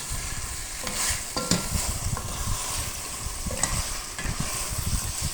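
Bottle gourd and potato being sautéed with a fried fish head in a pan, a steady close sizzle with repeated scraping stirs of a spatula throughout, no talk.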